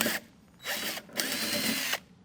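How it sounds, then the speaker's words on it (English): A power drill bores holes for a Flux Offroad rocker guard install on a Jeep LJ, three short bursts of whining drilling close by, separated by brief pauses. "So we need to drill out those front 3 holes and those middle 3 holes with this same drill bit."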